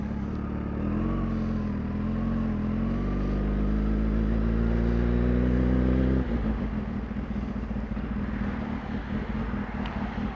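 Kawasaki Ninja H2 motorcycle engine while riding, a close, steady drone whose pitch climbs gradually as the bike accelerates, then drops to a rougher, lower note partway through, with wind noise throughout.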